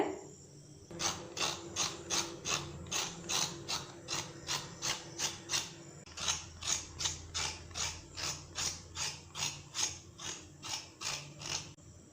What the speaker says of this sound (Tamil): இப்போ இதில் உள்ள தோலெல்லாம் சீவிட்டு நம்ம கழுவி கட் பண்ணி எடுத்துக்கலாங்க